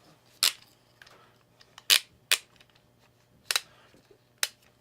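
Woodriver large-capacity clamp being tightened on a walnut and pine board pair, producing five sharp, distinct clicks and snaps at irregular intervals over a quiet background, close and fairly loud.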